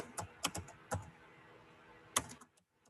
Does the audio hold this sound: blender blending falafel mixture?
no